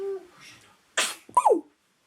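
A sharp sneeze bursts out after a soft murmur, followed by a brief high whimpering squeal, close by in a quiet room.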